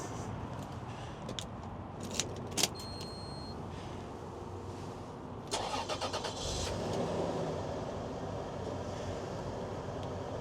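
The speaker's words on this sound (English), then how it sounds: "it's about that time of day where we fire up the engine" A 2000 Toyota Grand Hiace 4WD van with a 3.4-liter V6 has its engine cranked and started, a brief starter whir followed by the engine catching and settling into a low steady idle, heard from inside the cabin.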